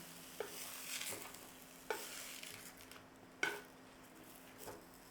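Mushrooms searing in a hot pan with butter and oil for individual Wellingtons, a steady close sizzle punctuated by four or five sharp clacks and scrapes of a utensil stirring and flipping, with no talking.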